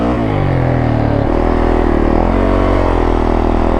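A Yamaha YZ450F four-stroke dirt bike engine revs hard in first gear, close and very loud. Its throaty drone climbs in pitch partway through and holds steady.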